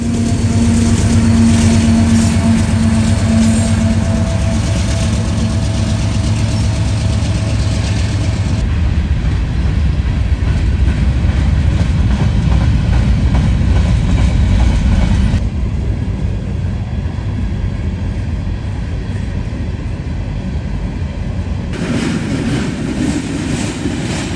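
A Norfolk Southern freight train on the Dayton District, with a Union Pacific AC44CW locomotive working as a mid-train distributed power unit, rumbles past loudly and continuously, a dense roar with shifting engine drone and wheel noise, no voices.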